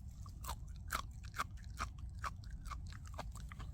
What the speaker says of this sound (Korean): 제가 한번 먹어보겠습니다.